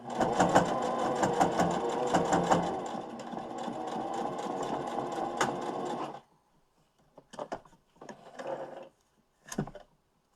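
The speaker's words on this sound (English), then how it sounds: "And just sewing it so that my nice pretty sides pop up together." A sewing machine runs steadily at speed while stitching a fabric mask, its fast close whirring rattle continuing for several seconds, then stopping for a few short hesitant bursts of stitching.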